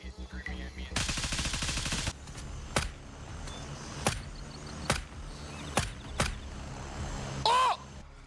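Gunfire in the military shooter Gray Zone Warfare: a dense automatic burst up close, then several sharp single shots spaced a second or so apart, ending in a brief louder crack amid quieter game ambience.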